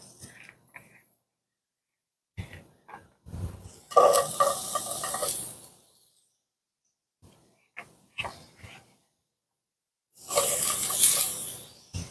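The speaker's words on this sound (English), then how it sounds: "when I say sizzle, I mean sizzle" Loud bursts of sizzling from cube steaks in a hot frying pan come and go between quieter gaps, with brief clatter and faint sounds in between.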